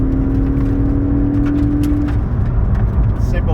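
A Ford Focus with a 2-litre turbo engine and a COBB Accessport tune accelerates flat out with flat-foot shifting. A loud, steady engine drone runs close inside the car and changes briefly partway through as a gear is shifted.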